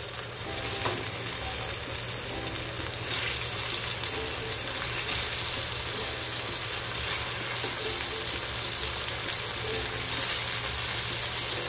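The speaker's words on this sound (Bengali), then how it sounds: "এখন কচুগুলো এভাবে দিয়ে দেবো, দিয়ে ফ্রাই করে নেবো ভালো করে" Pieces of taro (arbi) frying in hot oil in a pan, a steady, close crackling sizzle that holds for the whole stretch with a low hum underneath and no talking.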